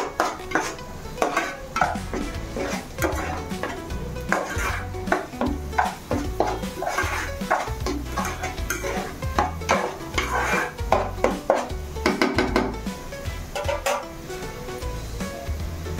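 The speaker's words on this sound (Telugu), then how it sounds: "దీంట్లో అల్లం వెల్లుల్లిపాయ పేస్ట్ వేసుకున్నా కలుపుకోండి ఫ్రెండ్స్" Ginger-garlic paste being stirred into a snakehead fish (chera meenu) curry in a pan: continuous rapid clattering and scraping of a spoon on metal, close and busy throughout, over a low cooking hiss.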